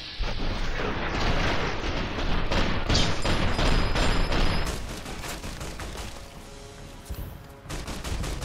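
Rocket launcher blasts and heavy gunfire in Fallout: New Vegas, a loud, sustained barrage of booming explosions and rapid shots with a brief lull near the end before the blasts resume.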